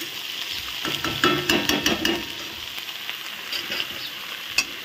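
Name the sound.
banana flower (mocha) frying and being stirred in a pan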